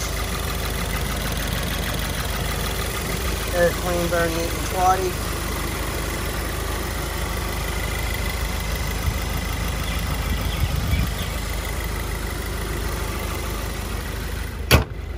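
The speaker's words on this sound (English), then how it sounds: "just so you can see and hear the engine" A 2016 Subaru WRX engine idles steadily in the background, a low even hum, while a person speaks briefly over it.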